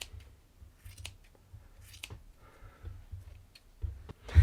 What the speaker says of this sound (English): And it being wool, it's easy to cut and trim.